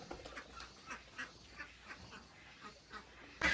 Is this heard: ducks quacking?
yes